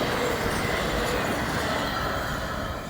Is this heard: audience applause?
no